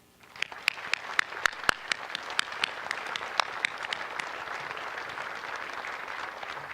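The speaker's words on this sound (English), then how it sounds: "it deserves another round of applause" At an outdoor Pearl Harbor Remembrance Day ceremony, an audience breaks into applause that starts with a few crisp, scattered claps and swells into a softer, sustained wash of clapping heard from a distance.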